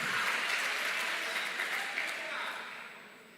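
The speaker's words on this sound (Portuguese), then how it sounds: "Se é para aplaudir, aplauda." Congregation applause fills a Baptist church, a dense steady wash of many hands clapping that holds loud and then slowly fades, with a faint voice beneath.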